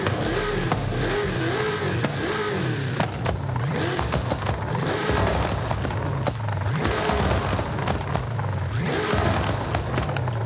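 The engine of a Hennessey Camaro Exorcist revs repeatedly and loudly up close, its roar rising and falling amid sharp popping and crackling bursts like a rally car's anti-lag.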